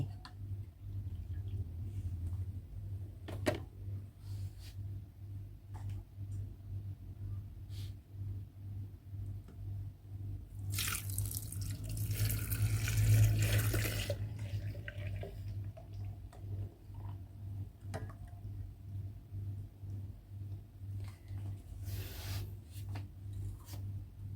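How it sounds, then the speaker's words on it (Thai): Coffee is poured into a fermentation jar holding pineapple peels for tepache, a soft rushing pour lasting a few seconds amid faint clinks and a low steady hum. "เดี๋ยวเราจะเทน้ำกาแฟเนี่ยลงไปเลย"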